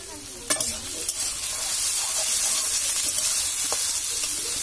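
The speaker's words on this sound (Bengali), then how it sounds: "তো পেঁয়াজটা ভালো করে লাল করে নেব প্রথমে, তারপর রসুন দেবো, সব মশলা দেবো।" Chopped onions fry in hot oil, a steady bright sizzle with a few sharp spatters and stirring clatters, close and fairly loud throughout with no talk.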